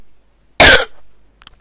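A single loud, harsh cough bursts out close by, followed by a short fading breathy tail and a faint rustle near the end.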